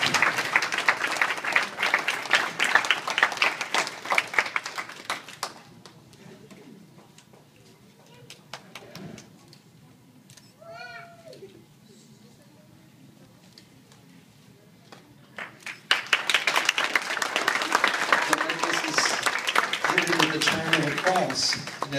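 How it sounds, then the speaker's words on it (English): Guests at a quinceañera clap their hands in a dense burst at the start and again at the end, with a quieter lull in between holding faint tonal calls and some talk. "Can we please welcome them and give them a hand clap?"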